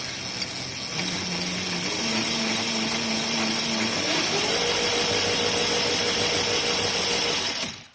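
The chain drivetrain of a steel Power Racing kart spins up in a makerspace, a loud steady mechanical whir whose pitch steps up as the revs climb, then cuts off at the end.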